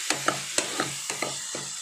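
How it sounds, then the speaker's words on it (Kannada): Chopped tomatoes and onion frying in a pan for a fish curry, with a steady sizzle broken by sharp, rhythmic knocks of a spoon stirring and tapping the pan, close and clear with no talking. "ಇವಾಗ ಈ ಟೊಮ್ಯಾಟೊ ಫುಲ್ ಸ್ಮ್ಯಾಶ್ ಆಗೋ ತನಕ ಚೆನ್ನಾಗಿ ಫ್ರೈ ಮಾಡ್ಕೋಬೇಕು."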